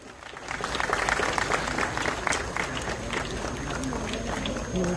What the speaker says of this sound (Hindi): मैं चाहूंगी तालियां निरंतर बजती रहे।